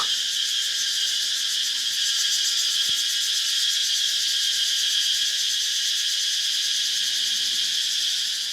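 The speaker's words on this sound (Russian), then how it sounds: "Цикады просто орут." A loud, unbroken chorus of cicadas in Phu Quoc, Vietnam, a dense high-pitched buzz holding steady throughout with faint background rustle.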